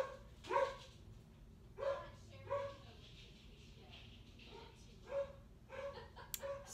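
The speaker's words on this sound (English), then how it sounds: "Sorry, that's my dog." A dog barks indoors at a distance, several separate barks spread across the stretch with pauses between, faint under a steady low hum.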